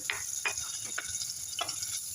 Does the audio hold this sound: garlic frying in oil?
yes